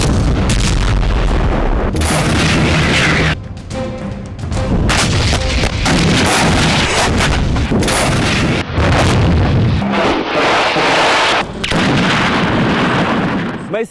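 Heavy artillery fire and bombardment in the Karabakh war zone near Armenia, dense loud booms and bursts in rapid, overlapping succession with brief lulls, continuous and close without any talk.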